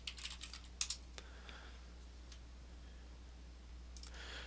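Quiet computer keyboard typing: a brisk cluster of soft key clicks at the start, a few isolated taps, then a short burst near the end over a faint steady hum.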